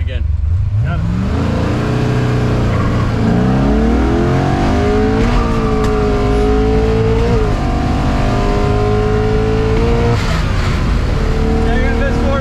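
A 1966 all-original 427 big block Corvette pulls hard through the gears, its loud engine note rising and dropping at each shift under continuous road roar, with people talking inside the car.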